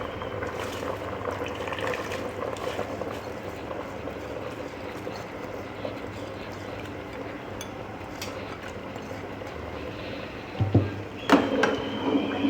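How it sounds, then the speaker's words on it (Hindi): Soaked, drained rice is tipped into a pot of beef yakhni pulao, with a few short rustling, splashy pours near the end over a low, steady kitchen background. "अब हम इसमें इस स्टेज पे जो चावल हमने भिगो के रखे थे उनका पानी हमने ड्रेन कर लिया, गिरा दिया, और चावल हम इसमें शामिल कर देंगे आराम से"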